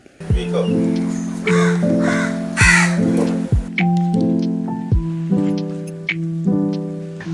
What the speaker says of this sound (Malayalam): തന്റെ അടുത്തെത്തുന്ന കാക്കകൾ ചിലതിനെ തിരിച്ചറിയാറുണ്ട്